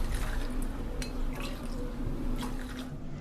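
Two glasses of water poured from a glass into a kadai already holding milk for a festival rice and sago pudding; a steady, close liquid splash and trickle runs throughout with no voices.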